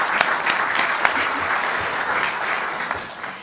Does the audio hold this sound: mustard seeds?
no